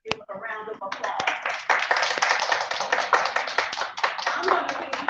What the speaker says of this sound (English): And all of our HBCU supporters, let's give a round of applause.